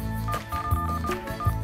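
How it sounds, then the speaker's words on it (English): Someone dials a mobile phone in a children's music show, a string of short electronic keypad tones set against a sustained musical backing. "Could you call him on the mobile phone?"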